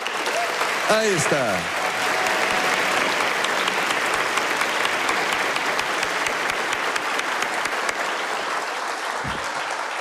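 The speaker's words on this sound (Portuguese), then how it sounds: "E esse cumprimento não merece mais uma salva de palmas?" Sustained applause from an audience at a state legislative honorary-citizenship ceremony in Paraná, loud and steady throughout, with a brief spoken voice near the start.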